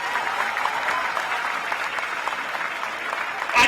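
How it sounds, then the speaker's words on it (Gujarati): A crowd at a Patidar agitation rally in Mehsana applauds for the media, steady dense clapping from many hands heard at a moderate distance, ending in a brief thump. "મીડિયા માટે ખાસ આપણે સન્માન માટે તાળીઓ પાડીએ જબરજસ્ત"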